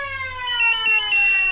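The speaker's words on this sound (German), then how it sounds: "Jetzt warten wir schnell noch, bis der Melder runtergeht." A fire brigade pager alarm in the firefighting game Emergency 4 with the Wegberg mod sounds a loud, sustained electronic tone that slides slightly downward and pulses in steps, with no talking.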